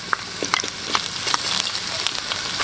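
Garlic, ginger and chili flakes sizzle steadily in a hot pan, with a dense frying hiss and scattered crackles and pops throughout.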